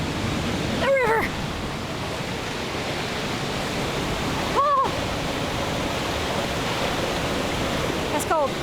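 Rushing river water and a nearby waterfall roar steadily and loudly through the whole stretch, with a few brief exclamations from a hiker wading through cold water heard over the torrent.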